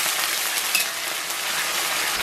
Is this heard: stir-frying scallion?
yes